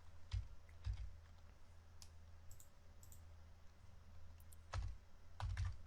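Computer keyboard typing code, a soft patter of quiet clicks and key taps in short bursts, alone in a quiet room.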